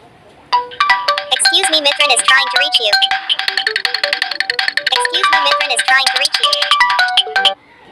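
An Android phone plays a bright, rapid melodic ringtone with repeated chiming notes for several seconds, loud and close, as a call comes in from another mobile, then it cuts off abruptly.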